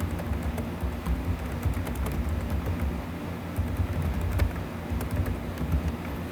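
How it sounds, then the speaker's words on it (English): Continuous keyboard typing while entering text in a word processor, a steady patter of soft key clicks over a low background rumble, no talk. "once we get finished typing that text"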